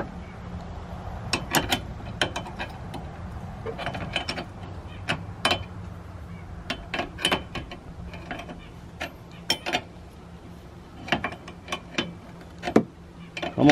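Ratchet wrench tightening a bolt while installing whips on a Kawasaki KRX 1000 side-by-side, irregular bursts of sharp clicking ratchet strokes, close and moderately loud, no talk.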